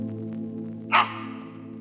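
A single short dog bark from a video game rings out once over a steady low hum of game music or ambience.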